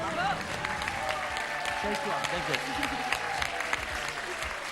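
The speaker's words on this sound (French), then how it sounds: "On applaudit Laura et François" A French TV game show studio audience applauds warmly, a dense continuous clatter of clapping held at an even level throughout, heard from within the studio.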